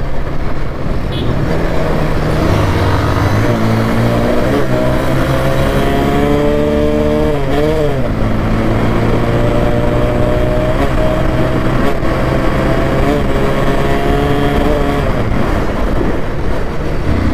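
A motorbike ridden fast on a road by a rider without a helmet: a loud, steady engine roar rising and falling in pitch through gear changes, with continuous road and traffic noise close by.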